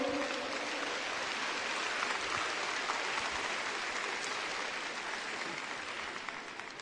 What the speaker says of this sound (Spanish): Dale un aplauso fuerte al Señor en esta hora.